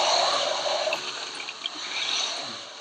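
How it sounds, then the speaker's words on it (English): Hoses blast high-pressure water into thick mud to free a stuck animal, a steady broadband rushing hiss that holds throughout at moderate level with faint gurgles. "the fireys start to pump high-pressure water into the mud"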